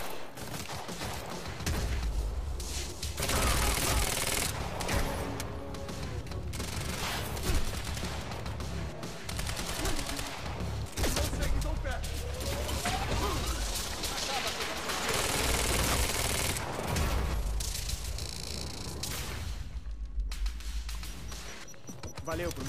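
Gunfire in the Quantum Break video game: dense, continuous bursts of shots and impacts fill the whole stretch, loud and close, mixed with game effects and voices talking over the action.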